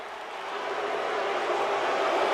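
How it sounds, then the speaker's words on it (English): Wrestling arena crowd noise in the video game WWE 2K22 gives a steady, dense wash of many voices, rising slightly and holding at a moderate level without distinct individual calls. "Obviously the crowd not really too happy to see Finn Balor."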